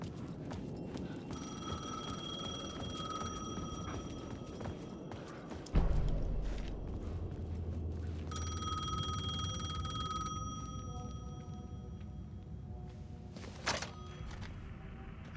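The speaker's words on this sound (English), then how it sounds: "The payphone was ringing." A payphone rings in repeated bursts in the video game Alan Wake 2, its bright metallic bell clear against a low ambient background, with a heavy thump partway through and no talking.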